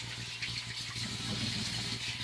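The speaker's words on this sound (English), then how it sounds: "I'm gonna rinse my hands off." Tap water runs steadily as hands are rinsed at a sink, a continuous close gushing splash with no talk.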